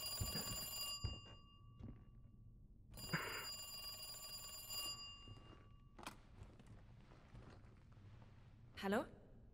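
A telephone in the video game Resident Evil 2 Remake rings in two long, bright bursts separated by a pause, alongside thuds and game noise, with a voice briefly heard.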